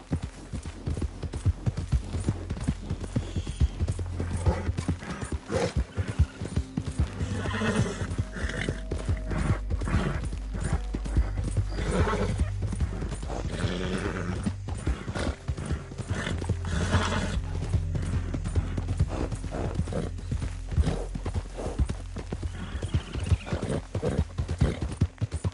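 Hooves pound in a steady gallop from a horse in Red Dead Redemption 2, continuous and close, with a whinny rising over the clatter and game music running underneath.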